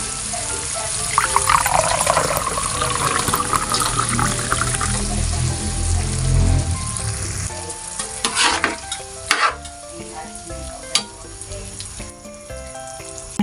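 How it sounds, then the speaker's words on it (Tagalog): Sprite is poured into sizzling pork igado, with a steady liquid stream over frying and stirring that fades, followed by scattered clinks of a utensil against the pan. "At lalagyan ko din ito ng Sprite."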